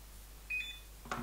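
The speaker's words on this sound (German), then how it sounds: "Jetzt habt ihr den Piepton gehört." A Lowrance Elite Ti fishfinder gives short electronic startup beeps as its screen recalibration begins: two faint, brief tones, quiet and close.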